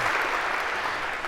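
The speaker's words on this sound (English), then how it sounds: "maybe a round of applause for having choreographed that so perfectly." Lecture hall audience applauding in a university computer science class, dense steady clapping filling the whole short stretch at even loudness.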